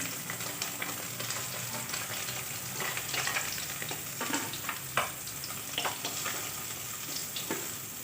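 Small fish frying in a generous amount of hot oil, giving a steady close sizzle with crackling pops and occasional stirring scrapes throughout, no voices.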